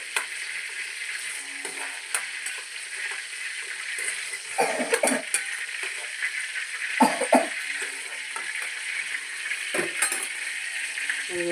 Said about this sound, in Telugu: అప్పుడు ఉల్లిపాయ పేస్ట్, అల్లం వెల్లుల్లిపాయ పేస్ట్ వేస్తాను